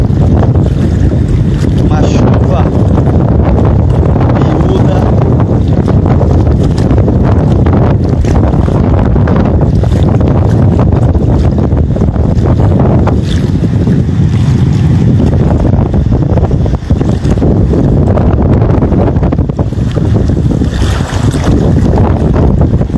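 Strong wind blowing over the open water of Lagoa dos Patos near Arambaré during high water, a loud steady rush with buffeting gusts on the microphone and the low wash of waves and current, no clear talk over it.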